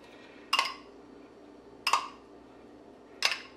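Three spaced clinks of a utensil against a bowl while stirring a marinade dressing with garlic for grilled monkfish, each a short bright tap over quiet room tone.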